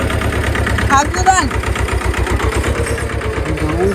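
A tractor engine idles with a steady low thumping pulse throughout, while people talk loudly over it.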